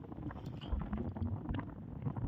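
Wind buffets the microphone in low, uneven gusts, with a rumbling, rushing quality of air streaming past a moving vehicle.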